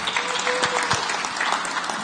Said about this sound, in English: Give him another round of applause, guys.